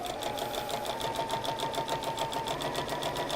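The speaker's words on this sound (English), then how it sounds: "we're sewing them together in pairs with a sashing strip in between" A sewing machine stitches quilt pieces joined in pairs with a sashing strip, a rapid, even run of needle strokes with a soft motor whine, close and steady throughout.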